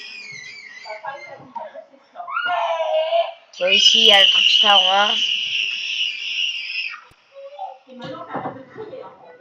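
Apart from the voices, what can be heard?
child screaming and crying in the room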